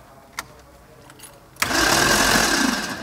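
A car engine spun over by its starter motor with no compression, a brief click and then a loud, steady, fast whirring that runs freely without firing.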